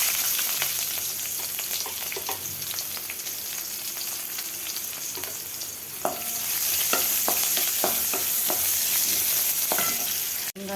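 Curry leaves and small onions frying in hot oil with mustard seeds while a tamarind-based brinjal curry is being prepared: a steady, dense sizzle with repeated clinks and scrapes of a spoon stirring the pan.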